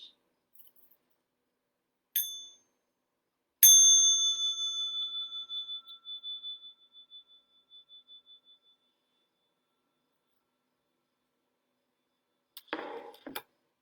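A small meditation bell struck twice, a soft tap followed by a clear ring that decays slowly and pulses for several seconds into silence, with faint rustling near the end.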